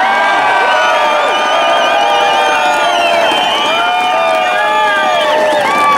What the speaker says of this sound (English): let's have one quick huge round of applause for those very, very courageous senators from the state of Wisconsin